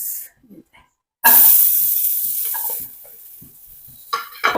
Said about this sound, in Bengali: এই যে এখন ভাজবো পেঁয়াজ